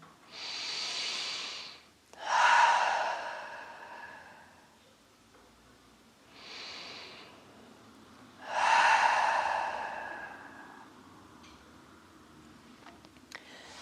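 Slow, deep breathing during a full-body yin yoga stretch: two long audible inhale-exhale cycles, each a soft rush of air rising then fading, close and fairly quiet with pauses between.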